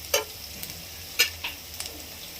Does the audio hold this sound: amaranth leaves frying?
yes